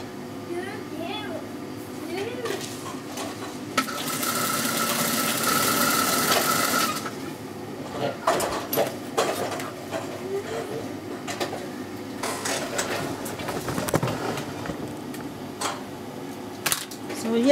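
A sewing machine stitches fabric for a salwar, a few seconds of steady mechanical whirring that rises clearly above ongoing talk in a room, with speech continuing around it.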